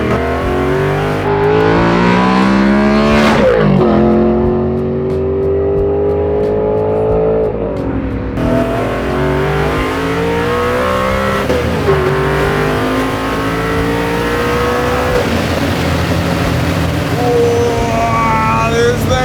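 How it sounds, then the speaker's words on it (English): A 750 hp 1970 Plymouth Cuda engine revs hard and loud, rising through repeated climbing pulls with brief gear breaks and touching the rev limiter. A voice briefly cuts in. "There we saw just a little sliver of that rev limiter."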